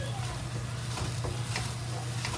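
Egg sizzling steadily as it is scrambled in a frying pan while cooking tomatoes with scrambled eggs, a continuous close crackle with a low hum beneath and faint scraping stirs.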